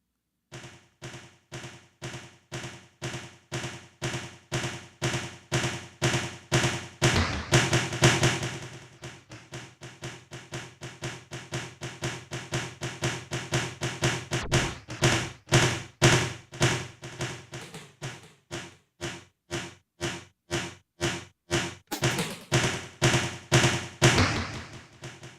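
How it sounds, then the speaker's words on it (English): A steady train of repeated percussive thumps runs through a simple delay effect emulating old tape delay, the echoes pulsing in regular rhythm with slight wavering wow and flutter, loud and continuous without speech. "So that was the simple delay."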